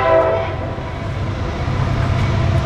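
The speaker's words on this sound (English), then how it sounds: "Nice horn show." Horn of a CSX eastbound intermodal freight train in Marion, Ohio, a loud, close blast at the start that fades into the steady rumble of passing rail cars.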